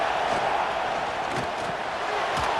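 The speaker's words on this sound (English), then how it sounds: "This crowd unhinged, trying to make sure the Gators don't back down on 3rd down." A dense, roaring stadium crowd at a Texas Longhorns versus Florida Gators college football game fills the air as a steady wash of noise, loud and unbroken, with a commentator talking over it.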